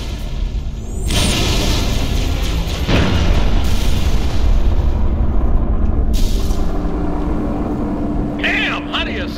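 Heavy artillery fire-support explosions in Halo: Reach, aimed at an approaching Covenant corvette: loud booming blasts with a sustained rumble, a sharp crack near three seconds, and radio voices over the barrage.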